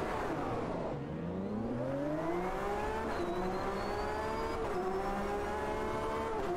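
A Porsche GTE race car in the racing game Automobilista 2, its engine droning loudly and steadily, with the pitch climbing through successive upshifts and dipping at each gear change, alone without talk.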